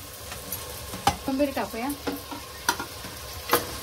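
Tomato masala mixture is stirred in a hot pan, with a spoon scraping and clacking in irregular strokes over a soft sizzle while someone speaks briefly.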